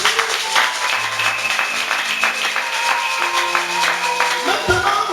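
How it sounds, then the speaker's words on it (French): A church congregation claps during a New Year thanksgiving service, the clapping mixed with sustained musical tones and some voices throughout. "Applaudissez pour le roi."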